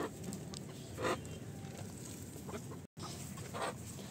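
Chickens in a hen shed give a few soft, scattered clucks over quiet background noise, faint and somewhat distant, with a brief dropout near the end.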